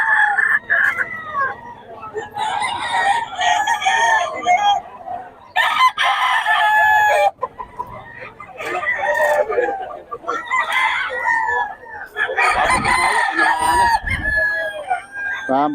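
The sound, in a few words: gamefowl roosters crowing and clucking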